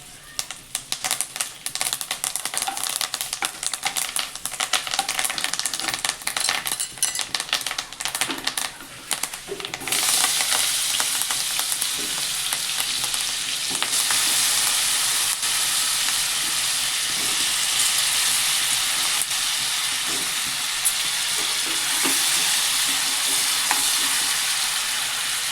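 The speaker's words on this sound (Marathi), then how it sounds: "मोहरी चांगली तडतडू द्यायची" Mustard seeds crackle and pop steadily in hot oil in a pan, loud and close, while a potato dry bhaji is being made. A dense sizzling hiss takes over partway through and continues to the end.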